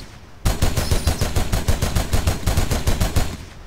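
A mounted machine gun in an Unreal Engine 4 game fires one fast, steady, continuous burst of loud, close, sharp reports that starts abruptly and holds its even rhythm throughout.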